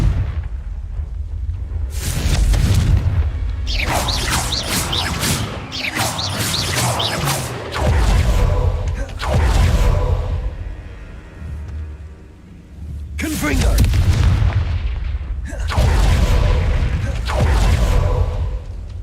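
Confringo spell blasts from Hogwarts Legacy sound in a game battle: a series of loud, booming explosive bursts with crackling debris, coming in repeated waves with short gaps between them.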